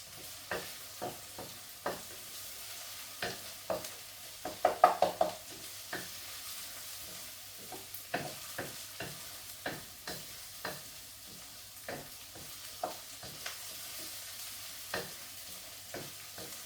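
Beef karahi with garlic and ginger being stirred and fried in a pan, with repeated sharp scraping strokes of a utensil over a steady, quiet sizzle, the stirring loud and close.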